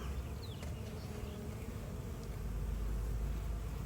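Honeybees buzz steadily around an open hive during an inspection, a soft, continuous hum with no break.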